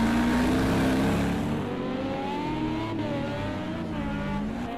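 A Le Mans prototype-style race car in Project Cars 2 fires back into life after repairs and revs away, a loud engine note climbing and sweeping in pitch as it pulls off, fading slightly over the run.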